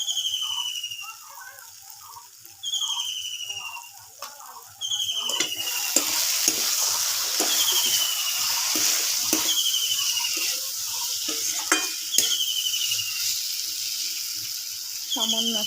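Jackfruit curry masala sizzles and fries in a pan while being stirred, with scraping and spattering crackles over a steady hiss and repeated high chirps in the background.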